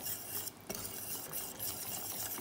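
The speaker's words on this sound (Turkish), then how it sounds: "Şöyle bir karıştırıyoruz." A spoon stirs broccoli tarhana soup in a pot, with soft continuous scraping and light clinks of metal against the pot, close and quiet, with no voices.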